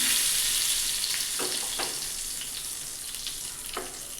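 Cumin seeds and curry leaves hit hot oil for a tadka, giving a steady bright sizzle with a few sharper crackling spits, close up and without voices.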